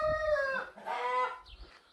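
Hens in a backyard chicken coop give drawn-out, rising clucks and squawks, two loud calls close by followed by a softer trailing cluck.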